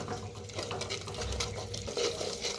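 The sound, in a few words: seeds being dry-roasted in a pan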